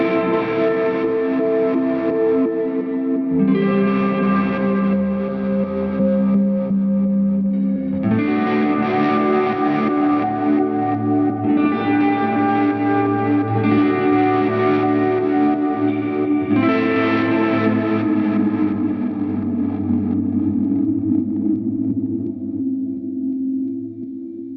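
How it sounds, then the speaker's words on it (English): An electric guitar plays sustained chords and notes through a 2016 digital delay pedal set to reverb into reverse delay with heavy saturation and modulation, producing swelling, smeared, distorted washes that bloom and trail off over about twenty-five seconds. "here's what it sounds like when we pull out all the control rods and go reverb into reverse delay with a whole lot of saturation and modulation"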